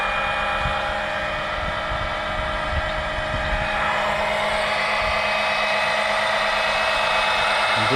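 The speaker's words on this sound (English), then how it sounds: "we turn the pump on" An oil extractor pump running steadily during an oil change on a Mercedes CLA 250, a constant whirring motor hum with a faint high whine, close and unbroken.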